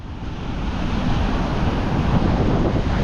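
Continuous rushing roar of sea waves washing onto a beach, mixed with wind buffeting the microphone, steady and fairly loud with no voices.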